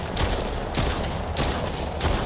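Repeated gunfire in the video game Stray, four loud sharp bursts spaced roughly evenly over a steady low rumble, with no talking.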